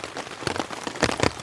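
Heavy rain drumming on the fabric of a Hilleberg Allak 2 tent, a dense steady patter with louder irregular splats, heard close from inside.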